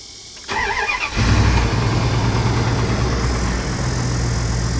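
An old truck engine cranks briefly with a whining starter, then catches and settles into a loud, rough, rumbling idle with lower end knock, recorded close up.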